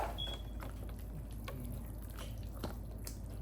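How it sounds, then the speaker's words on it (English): Cheese sauce poured over cooked macaroni noodles while making roux-based mac and cheese, a soft continuous wet glugging and slopping with faint drips, steady and close throughout. "you want to take that cheese sauce, pour it all over the noodles just like that."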